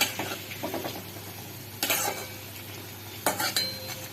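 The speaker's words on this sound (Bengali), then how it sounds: "একটু আস্তে করে দিয়ে ভাজছি" Small potato and carrot pakoras fry gently in oil on low heat, a soft steady sizzle broken by a few sharp scrapes and taps of a spatula against the pan.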